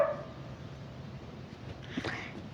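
Pet dogs bark indoors, with a single faint bark or yip rising near the end over a quiet, noisy room background.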